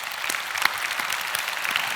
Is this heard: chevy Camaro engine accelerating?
no